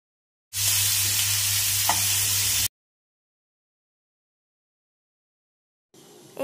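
Alfam chicken frying in a pan, a loud, dense sizzle lasting about two seconds that stops abruptly, followed by silence and then a quieter sizzle returning near the end.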